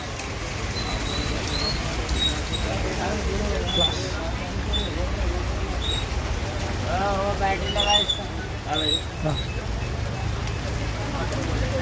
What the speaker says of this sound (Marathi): आजूबाजूला सगळं पाऊस पाणी पडतं